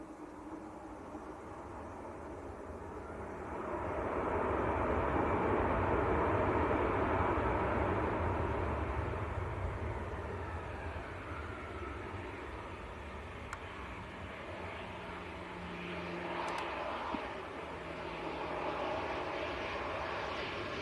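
An airliner at Leeds Bradford Airport produces a broad, steady engine roar that swells and holds, then eases off to a distant rumble. Heard from outdoors at some distance, with no talk.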